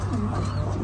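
A large pigeon kept by a Lahore fancier gives a low, soft coo, close by under steady background noise, with no clear talk.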